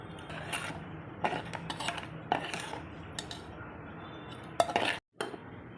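Hot rice is served from a cooking pot with metal utensils: quiet, close clinks and scrapes of a spoon against the pot, irregular and sparse, with a sharper clatter near the end.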